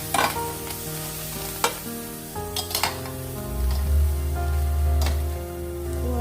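Chillies dry-roast in a pan, stirred repeatedly with sharp scraping and clinking strokes of the utensil, followed by a louder rumbling sizzle, all close and without speech.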